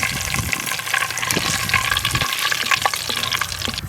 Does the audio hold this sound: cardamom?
yes